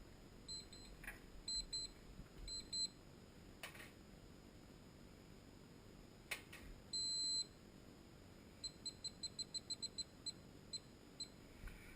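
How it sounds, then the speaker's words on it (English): Oven timer alarm for a home powder-coating setup, sounding as bursts of high electronic beeps: a few short pairs, one longer tone, then a rapid string of evenly spaced beeps, faint over a low steady hum. "the timer is just about ready to go off"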